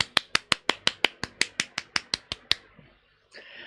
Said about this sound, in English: It's a clap.